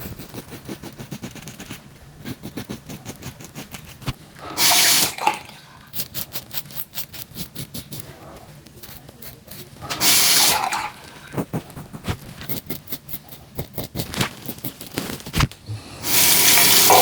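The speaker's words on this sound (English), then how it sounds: "let's give it a rinse and see where we're at" Safety razor, an Edwin Jagger DE89, rinsed under a running tap: three loud bursts of gushing water into a sink, each a second or so long, separated by quieter clicks and handling noise.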